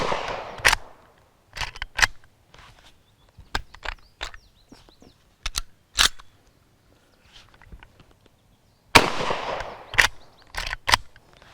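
A Century Arms PW87 shotgun being fired and worked, with loud, sharp, irregularly spaced bangs and clacks separated by quiet gaps and a denser cluster of blasts toward the end.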